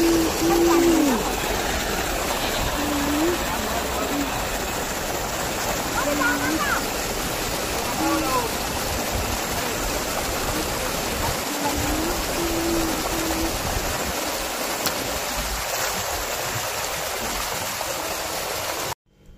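Water from a high-pressure motor pump pours steadily into onion and garlic garden beds, a continuous rushing flow heard close and loud throughout with a faint low hum beneath.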